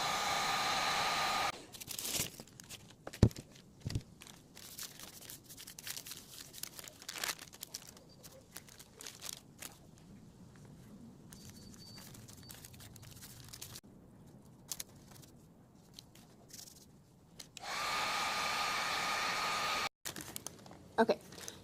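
A heat gun blows on foam and fibra thermoplastic, a loud whooshing airflow at the start and again near the end, with crinkling, handling and tapping sounds of the material in between.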